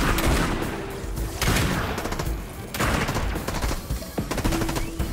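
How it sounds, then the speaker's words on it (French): Gunfire crackling from many directions in Fortnite, dense overlapping volleys and bursts that swell and fade in waves, loud and continuous with no talking. "Putain, ça tire dans tous les sens"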